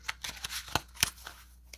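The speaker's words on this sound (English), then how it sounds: "Trying to do a soft shuffle." Tarot cards shuffled gently by hand, a series of separate soft papery slides and taps spaced irregularly, close to the microphone in a quiet room, with two slightly sharper snaps in the middle.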